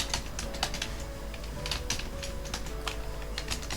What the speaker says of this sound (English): I'm gonna type B in small case